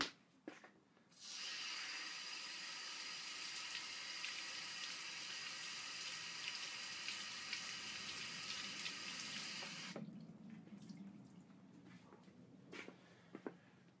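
Tap water runs steadily and loudly into a sink while a paint sponge is rinsed under it, a continuous rushing splash lasting several seconds before it cuts off, followed by small drips and handling noises.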